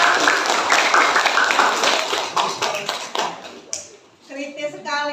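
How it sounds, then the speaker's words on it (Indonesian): A classroom of students claps for a classmate, a dense burst of close, rapid hand claps that thins out near the end, followed by a voice speaking. "Sekali lagi tepuk tangan untuk Widya."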